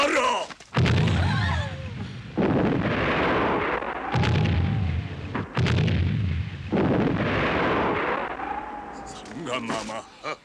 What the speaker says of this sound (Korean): 발포 준비해. 발포 준비.